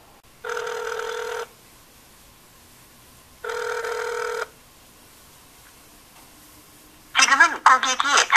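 Unanswered phone call on a Korean line: two long electronic ringback tones with silent gaps, then a recorded voice message begins.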